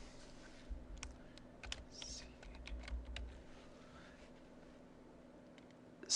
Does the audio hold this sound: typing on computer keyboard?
yes